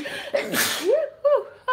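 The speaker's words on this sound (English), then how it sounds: "I sneeze like a beast" A single loud, forceful sneeze bursts out up close, with a sharp breathy blast followed by vocal sounds.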